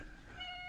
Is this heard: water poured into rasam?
no